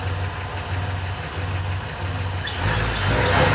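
A Slant 6 engine in a Ramcharger idles steadily with a low rhythmic rumble after sitting nine months, then revs up a little louder near the end.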